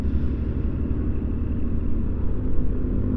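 Honda Zoomer X 110cc scooter ridden on a road trip to Antipolo at about 30, with a loud, steady low engine drone and wind rumble throughout and no speech.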